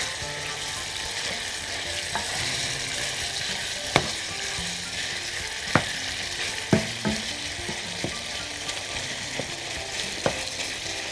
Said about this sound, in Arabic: هنقلب بقى دلوقتي الفراخ بتاعتنا شوية كده